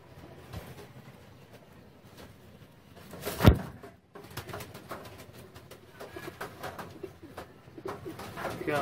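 A pair of pigeons kept for sale coo softly and intermittently at close range, with a sharp knock or clatter near the middle and light rustling around them.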